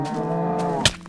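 A Minecraft cow moos in a steady harmonic drone that holds for about a second, close and fairly loud, ending with a brief sharp click.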